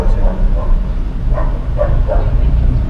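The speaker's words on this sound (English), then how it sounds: "I hear the dogs. They're not happy." Dogs bark in a few scattered bursts at a distance, partly buried under loud background noise and voices, at the Tijuana border crossing into Mexico.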